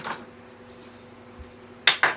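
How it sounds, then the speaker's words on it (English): A metal spoon clinks against dishes and cutlery in a home kitchen during pumpkin spice bread prep, mostly quiet room tone, then two sharp close clatters near the end. "Let me grab one more spoon."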